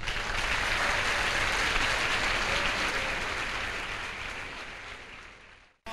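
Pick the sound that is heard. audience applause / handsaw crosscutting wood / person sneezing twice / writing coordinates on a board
audience applause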